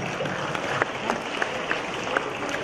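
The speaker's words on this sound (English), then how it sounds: "Big round of applause, please, everybody." Guests applaud as people come up on stage at a mental health association's event, a loud, even burst of many hands clapping with a few sharper claps standing out.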